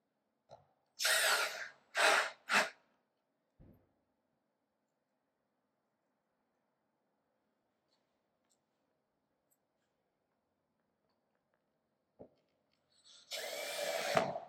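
A small power driver sets screws into a drop-in frame. It gives three short whirring bursts, then goes quiet for a long stretch, and a longer whir comes at the end, close and clear.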